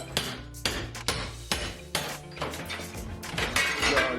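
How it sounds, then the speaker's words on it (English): Crowbar and hammer demolition around bathroom plumbing during a master bathroom renovation, sounding as a run of loud, close, sharp metallic strikes about every half second, with cracking and breaking debris between blows. "we want to do this with a crowbar and a hammer around plumbing"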